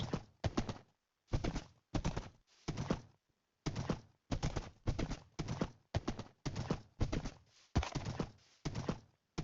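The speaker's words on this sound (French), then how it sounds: "il y a un cheval à côté" Rhythmic clip-clop of horse hooves in a video game, quick repeating bursts separated by short pauses, crisp and close, with no speech.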